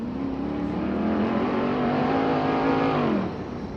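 An off-road 4x4 competing in a rock-crawling qualifier revs hard, a loud droning engine note rising and holding for about three seconds before dropping off, with a low whir underneath.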